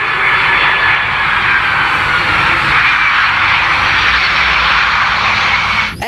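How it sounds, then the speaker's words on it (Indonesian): A toy passenger airplane styled as an airliner makes a steady, loud whooshing engine-like drone that holds evenly throughout and cuts off abruptly at the very end. "di sini ada pesawat penumpang"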